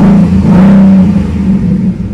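A 2019 Ford Mustang GT V8 in sport mode revs hard with a deep, steady engine roar throughout, loud and close, with no talking over it.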